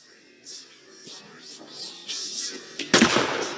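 A pistol shot in the indie game Whisker Wanderlust cracks out sharply near the end, following a few softer muffled pops and clicks, with no talk over it.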